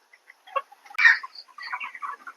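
Broiler chickens on a poultry farm give sparse, soft clucks and short chirpy calls, with one louder squawk in the middle, scattered and fairly quiet with no voices.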